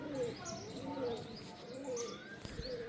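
Soft, low pigeon coos repeat in a gentle rhythm in a village, mixed with faint chirps and some background noise.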